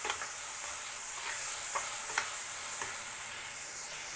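Rajma (kidney beans) go into a pot of frying tomato masala over a medium flame, with a soft steady sizzle and intermittent scraping stirs.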